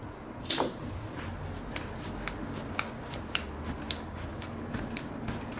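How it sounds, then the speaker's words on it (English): Scissors snip a uPVC door seal during a Stormguard door seal replacement, giving a few sharp, dry clicks spread across the clip over a quiet room hum, with no talking. "I'm going to snip that with the scissors"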